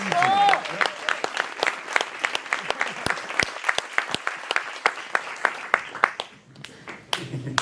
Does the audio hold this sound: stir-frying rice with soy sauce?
no